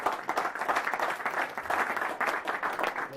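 A church congregation bursts into sustained applause for the Lord, many hands clapping steadily together at a moderate distance for several seconds.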